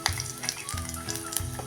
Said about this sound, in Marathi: ते आता थोडं परतूया.